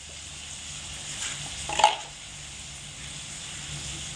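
Spiced potatoes sautéed in a pan, with a low steady sizzle and one brief stir-scrape near the middle, close and quiet with no talking.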